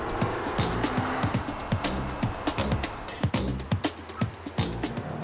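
A small rallycross car driven hard on a circuit, engine and Abarth-like exhaust revving up and dropping repeatedly through gear changes with sharp bursts and pops, loud and close, no talking.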